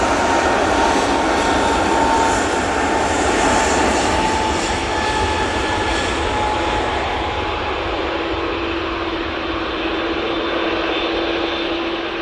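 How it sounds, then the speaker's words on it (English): A propeller aircraft coming in to land at Manchester Airport drones loudly and steadily, with a sustained engine hum whose pitch slowly drifts lower as it passes, alone without talk. "There's a prop coming in and a TUI coming on"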